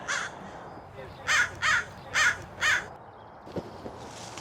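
Four loud, harsh crow caws in quick succession, fairly close, followed by a few faint clicks and quieter background noise.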